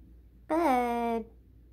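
A pet cat gives a single drawn-out meow lasting under a second, close and clear against a quiet room.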